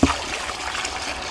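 A 15-litre bucket of water poured onto the base of a newly planted fruit tree, a brief steady splashing rush into soil and compost, close and moderately loud.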